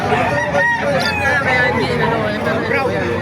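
A rooster crows amid a noisy crowd at a chicken market in Calumpit, Bulacan, its call rising over a steady babble of many voices nearby.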